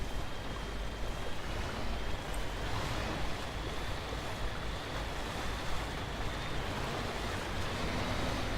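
A logging truck fords a river in the Spintires: Mudrunner video game, a continuous loud wash of churning, splashing water and engine rumble that holds steady throughout with no voices.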